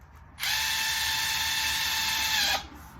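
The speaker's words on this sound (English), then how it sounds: "get my drill up in there" A power drill driving screws while installing a replacement window whirs loudly and steadily at close range for about two seconds, then winds down and stops, leaving quiet room noise.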